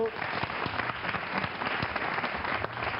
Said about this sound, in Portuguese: Chama-se Maria Consolé, da Unicef, uma salva de palmas.